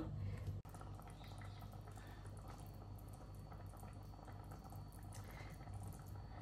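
Soybean curry simmering in broth in a pan, a steady low bubbling and gentle liquid churn that runs continuously at close range after a brief break near the start.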